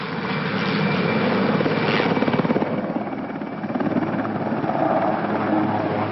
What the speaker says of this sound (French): C'est ce que l'on peut faire avec un hélicoptère quand on a, disons, quelques années de pratique.